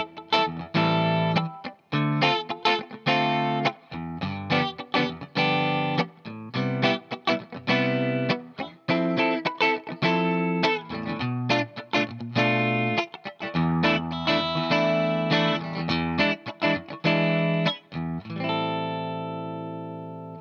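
Electric guitar plays a disco groove, a steady run of rhythmic chords through effects with distortion and chorus, loud and continuous, ending on a sustained ringing chord.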